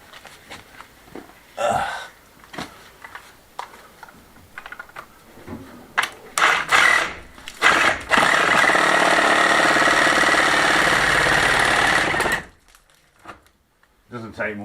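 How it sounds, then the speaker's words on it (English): A hand saw cuts through rotten wood at an off-grid Spanish finca, a few scattered knocks and handling noises giving way to a loud, continuous rasping stretch of sawing that stops abruptly, followed by quiet shuffling. "I think I'll just saw it in half again like I did with the other one."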